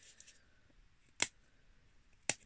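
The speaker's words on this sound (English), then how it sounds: "So I'm going to cut my little grooves out the other end" Two sharp, close snips of scissors cutting small grooves into the end of a card loom for wool weaving, spaced about a second apart in a quiet room.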